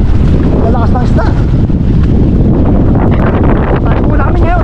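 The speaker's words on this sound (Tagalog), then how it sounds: "Pabor naman tayo sa hangin. Ay, sobrang lakas." Strong wind whips across a fishing boat at sea, a continuous loud roar buffeting the microphone, with voices talking through it.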